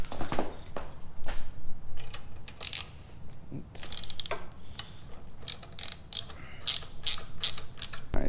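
Ratchet wrench loosening handlebar bolts on a 2020 Harley-Davidson Sportster Iron 1200 motorcycle, with repeated sharp clicking bursts in quick runs and short pauses, close and loud, no talking.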